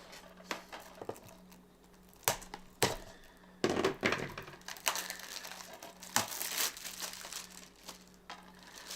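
Crinkling and tearing of packaging close by, with sharp bursts of crumpling and rustling between quieter moments, no one speaking.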